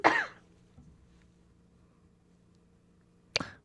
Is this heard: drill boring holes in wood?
no